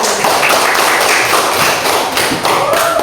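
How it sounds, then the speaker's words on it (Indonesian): Classroom of students applauding a classmate named Gio: quick, close, slightly uneven claps and thumps that run steadily for about three seconds with no talk over them. "Beri tepuk tangan untuk Gio"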